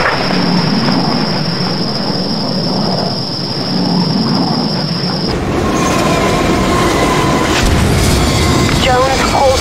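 A train running along the rails in the shooter game Project IGI: continuous rumbling and clattering of wheels, with a high steady whine early on, then rougher clanks and squeals as the sound shifts.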